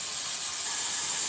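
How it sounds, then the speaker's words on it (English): A Breville Barista Express steam wand hisses steadily at close range while frothing a small amount of milk for a latte, a loud, continuous bright rush with no pauses or voices. "my wife has to help me turn on the steam wand"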